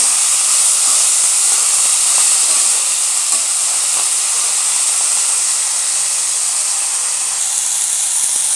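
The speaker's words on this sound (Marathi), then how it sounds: "नंतर त्याच्यामध्ये टोमॅटो आणि कोथिंबीर दोन्ही टाकून घ्यायचं आहे." Tomato and coriander frying with cumin in a pan, giving a steady, even sizzle and hiss that runs unbroken from start to finish with no one talking.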